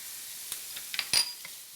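Garlic drops into a hot pan for Asian sloppy joes, setting off a few quick crackles and metallic clinks, then a short burst of sizzle that fades fast, close and quiet, with no voices.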